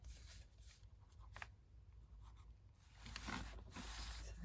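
Fine tip Sharpie marker writing a short note on masking tape on a journal card, faint scratchy strokes in brief bursts against a quiet room background.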